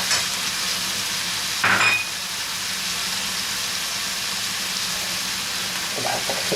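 Tomato slices frying in a pan, a steady broadband sizzle running throughout, with a brief louder burst of spattering near the start.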